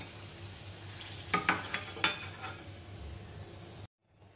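Raw papaya chips fry in oil as a quiet, steady sizzle, broken by a few sharp utensil clinks and scrapes near the middle before cutting off.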